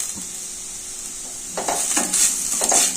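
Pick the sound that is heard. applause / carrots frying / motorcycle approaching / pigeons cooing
carrots frying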